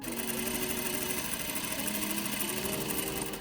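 A sewing machine stitches steadily across a welted pocket lining, closing it up at the top of the welt; a continuous close, even mechanical whir runs unbroken without speech.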